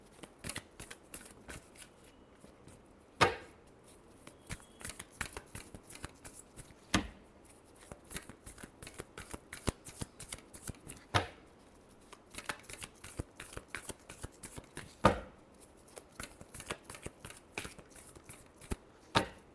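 Tarot cards are shuffled by hand in a quick series of crisp, papery flicks and slaps, nearby and fairly quiet, with a few sharper snaps standing out and no voices.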